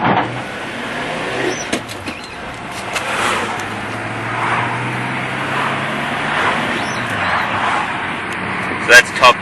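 An HQ car cruising in top gear at roughly 55 to 60 km/h, with a steady engine drone and road rumble throughout and a few brief knocks near the end.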